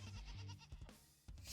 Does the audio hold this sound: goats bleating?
yes